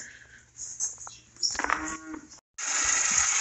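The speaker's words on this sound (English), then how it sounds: "I got to get the cows fed" Cattle moo at feeding time on a farm, several drawn-out lows close by, followed by a sudden loud rushing noise after a brief gap.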